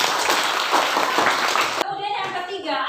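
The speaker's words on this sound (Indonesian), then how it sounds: "Tepuk tangan." Students in an Indonesian classroom clap together in a brief burst of quick, close applause that stops abruptly, followed by a quieter room.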